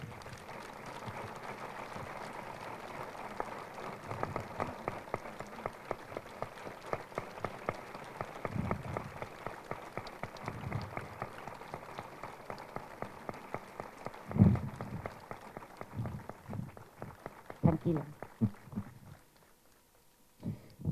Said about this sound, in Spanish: Recibamos pues con un fuerte aplauso al pregonero de la Feria y Fiestas del Cristo de la Columna